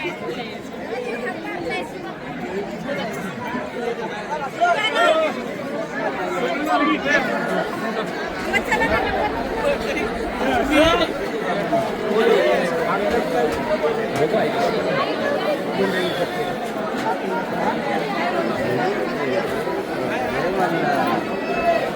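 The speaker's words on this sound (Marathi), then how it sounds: "भयंकर दर्शनाला गर्दी आहे" A dense, noisy crowd of pilgrims presses through Jejuri temple in Maharashtra, a steady close hubbub of overlapping chatter and shuffling that stays loud and unbroken from start to finish.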